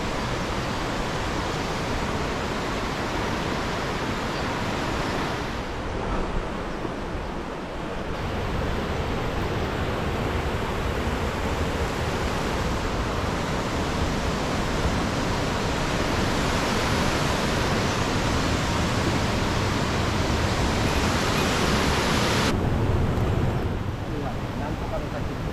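A waterfall along a mountain hiking trail in Oku-Kinu, near Nikko, roars as a loud, steady wash of water noise that holds unbroken from start to finish.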